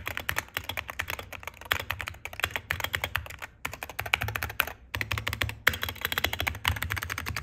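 Rapid, steady typing on a Wooting analog gaming keyboard, a dense run of close, crisp key clacks with brief pauses, heard alone with no talking.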